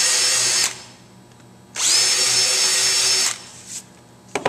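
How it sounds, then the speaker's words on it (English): A power drill fitted with a small countersink bit countersinks screw holes in a wooden longboard deck with veneer top and bottom: two loud, steady whining bursts separated by a pause, then a short faint blip and a brief clatter at the end. "I like to use a countersink bit, just a small countersink that you can use to countersink these"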